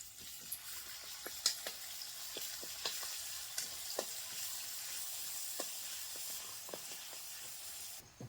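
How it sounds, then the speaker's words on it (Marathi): Ground green chili paste frying in hot oil, a steady close sizzle broken by frequent sharp crackles and pops, with no voices. "तेल गरम झाले आता हिरवी मिरची वाटलेली याच्यामध्ये टाकणार आहे"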